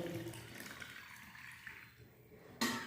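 About 800 ml of water pours steadily into a pot of curd and spices, a soft rushing flow that fades, then a brief louder splash at the end.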